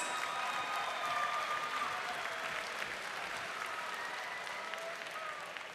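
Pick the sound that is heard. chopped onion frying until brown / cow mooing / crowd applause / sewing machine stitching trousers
crowd applause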